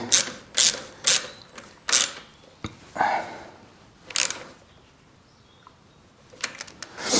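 Ratchet clicking in short bursts while tightening the battery bracket on a Harley-Davidson Sportster motorcycle, several sharp close-up mechanical clicks separated by pauses, with no talking.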